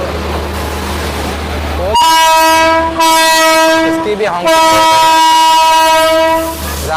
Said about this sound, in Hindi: राजधानी एक्सप्रेस की जो डिब्रूगढ़ जाएगी, इसकी भी हॉन्किंग हो गई है चलने की।